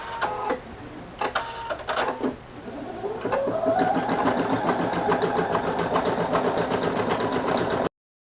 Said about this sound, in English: I'm going to go ahead and press go. I'm just going to stitch it out really fast.